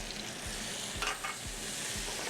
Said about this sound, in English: We're gonna saute our tomatoes a few seconds.